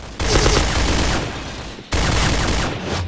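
Dense, continuous automatic gunfire from the shooter game Point Blank fills two loud bursts, with a brief break between them and no voices over it.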